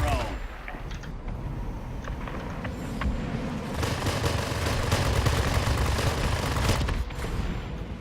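F-84F fighter guns fire in the World of Warplanes video game: continuous rapid booming gunfire with a heavy low rumble builds over engine drone and lasts several seconds.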